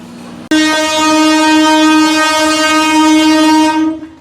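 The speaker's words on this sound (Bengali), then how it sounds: "দেখো ট্রেন ছেড়ে দিল আবার, দাঁড়াতেই লোকাল ছেড়ে ট্রেন দিল" A local train sounds a long, loud, steady horn blast right up close at a station platform, starting suddenly and holding before fading at the end.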